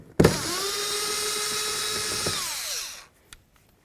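Power tool backing out a 10 mm bolt from a 2007-14 Ford Edge front door, one loud close whir lasting about three seconds, rising then winding down, followed by a faint clink.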